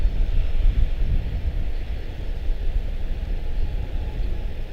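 An American Airlines Airbus A321 jet airliner at Charlotte-Douglas International Airport produces a loud, continuous low roar. Dense rumbling engine noise stays fairly even throughout the few seconds, with no talk.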